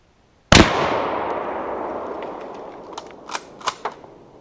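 A single loud, sharp report from a Mosin Nagant bolt-action rifle fired at a steel spinner target, followed by a long fading outdoor echo and a few faint clicks near the end.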